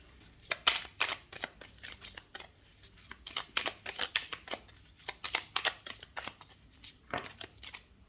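Tarot cards are shuffled close up, giving quick crisp riffling bursts and soft slaps at an uneven rhythm, with brief pauses as cards are drawn.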